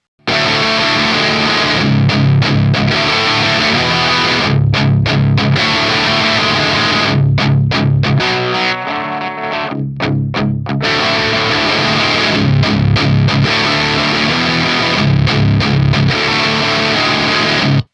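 An electric guitar through a Volcano Soldano amp sim with the gain being lowered, loud distorted chord riffs in repeating phrases, with a short quieter stretch of picked notes partway through.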